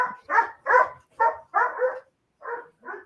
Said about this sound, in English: Dogs are crying.